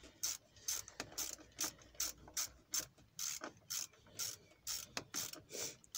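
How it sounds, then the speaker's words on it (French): A ratchet wrench clicks in quick repeated bursts while loosening bolts on the EGR valve of a Mercedes A/B 180 CDI, close and distinct with short pauses between strokes. "je mets le cliquet et je dévisse"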